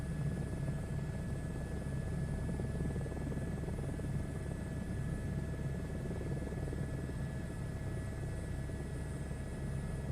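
Helicopter flying in Microsoft Flight Simulator 2024, a steady rotor and turbine drone with a constant high whine, even and unbroken, fairly quiet, with no voices.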